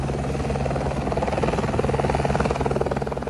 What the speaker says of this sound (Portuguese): O helicóptero do Corpo de Bombeiros foi acionado para o resgate das vítimas.